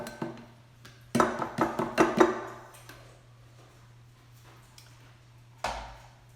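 Grated onion and loose onion pieces dumped from a grater into a bowl, giving a quick cluster of clattering taps and knocks followed by a softer thud later, close and fairly quiet in a home kitchen.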